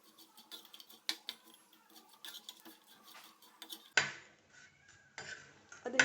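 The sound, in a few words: turning small dry fish frying in a pan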